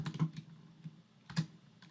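Quiet, close typing on a computer keyboard, with a few uneven clusters of soft key clicks and short pauses between them.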